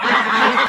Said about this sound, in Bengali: এখানে দেখতে পাচ্ছি অনেকগুলো হাঁস, তো সুন্দর সুন্দর হাঁস, সবগুলো একদম সাদা